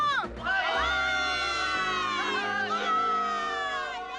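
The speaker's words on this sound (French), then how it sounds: "On acclame notre futur président!" At a school, a crowd of children cheers and shouts for Mancini, an excited burst of whoops and yells that rises quickly and stays lively, then eases off slightly toward the end.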